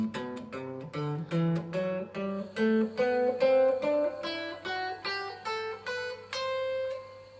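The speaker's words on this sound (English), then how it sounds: "So altogether, our scale sounds like this." A guitar plays a major scale, the Ionian mode, climbing note by note in an even rhythm, each clear plucked tone ringing briefly before the next, close and moderately quiet with no talking.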